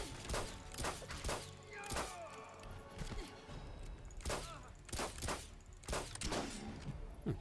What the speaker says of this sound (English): We must have fanned the hammer for those couple of shots